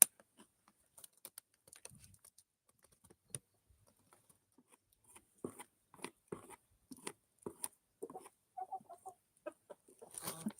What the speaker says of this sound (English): they do that funny call, like clucking hard out when they're going to lay an egg